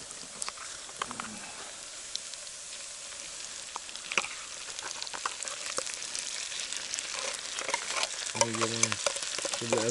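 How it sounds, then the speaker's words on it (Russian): Onions frying with canned stewed meat in a pan at a taiga camp, a steady close sizzle with occasional stirring scrapes and a brief voice near the end. "Лучок, ребята, зажарился."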